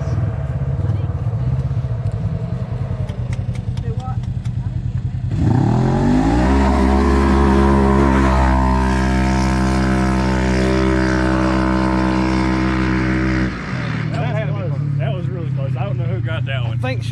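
Side-by-side UTVs race, a Can-Am X3 against Polaris RZR 1000 and RZR 900, engines revving loud and close, one surging into a sustained high roar before dropping back, with commentators talking over it.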